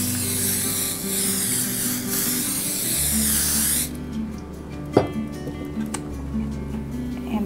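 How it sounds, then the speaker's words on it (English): Cooking spray hisses onto a cake pan for a chocolate sheet cake in a kitchen, a loud continuous spray lasting about four seconds before cutting off, followed by a few light clicks and knocks. "I'm going to spray it real well."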